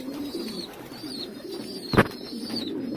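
Pigeons in a loft with squabs coo softly and continuously at close range, with one sharp knock or flutter cutting in briefly near the middle.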